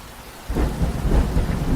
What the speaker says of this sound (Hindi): बारिश बहुत तेज थी।